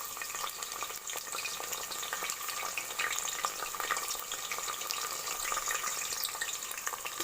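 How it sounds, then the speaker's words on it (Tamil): Onions, green chilies and curry leaves frying in hot oil for a spicy South Indian curry, a dense continuous crackling sizzle with occasional stirring, close and steady throughout. "அது லைட்டாக ஃப்ரை ஆனதுமே வெங்காயம் போட்டுடலாம்."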